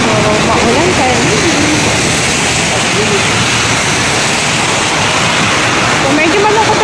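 Steady heavy rain hisses loudly and continuously on a wet Saturday in Hong Kong, a dense unbroken wash of noise with a faint voice buried underneath.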